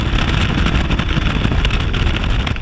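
Falcon 205 bass boat powered by a 250 SHO outboard with a 26-pitch prop running at speed on a straight stretch, a loud, continuous engine roar mixed with heavy wind rush and water noise.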